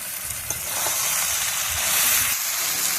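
Gourd stems tipped into spice paste frying in oil, giving a steady, loud hissing sizzle that swells slightly and holds on without talk.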